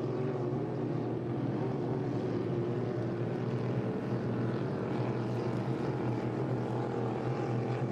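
A 5-litre racing hydroplane boat engine during a heat race drones steadily and loudly as it eases off, a continuous low roar with no clear break, with faint commentary underneath.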